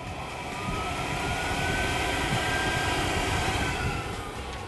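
A steady, loud rushing of air from a blower onto a yellow model aircraft wing, a continuous roar with a faint whine running through it, close by.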